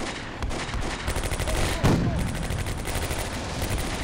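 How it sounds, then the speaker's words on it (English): Tank and machine-gun fire in a Combat Mission WWII battle at Carentan: rapid bursts of automatic gunfire rattle continuously at close range, with a heavier cannon-like blast near the middle. "the tank's still firing to the machine gun at that"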